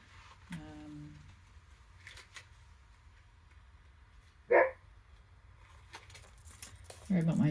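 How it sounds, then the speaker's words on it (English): A dog barks once nearby, a single sharp burst amid quiet room tone, with soft card-shuffling rustle and light speech around it. "Sorry about my dog."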